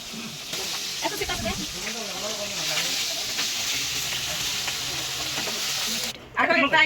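Fish roe fritters sizzle and spit in hot oil in a home kitchen pan, a dense steady frying hiss running throughout, with someone speaking softly over it early on and a clatter near the end.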